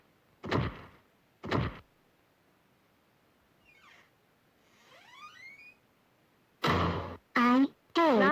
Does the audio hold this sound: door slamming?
yes